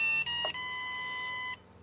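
A Hitec X4 AC Pro battery charger gives a loud, steady electronic beep that drones for about a second and a half, broken by a brief dip near the start, then cuts off to near silence.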